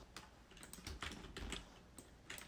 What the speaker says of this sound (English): Try typing in it, see if it breaks.